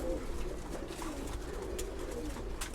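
Pigeons coo softly during feeding, with several low, repeated coos from nearby birds and a few light rustles and clicks against a quiet background.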